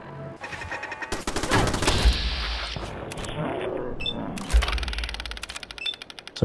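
Gunfire from weapons in Fallout 4 rings out as loud, repeated bursts and rattling shots that run throughout, with no talking over them.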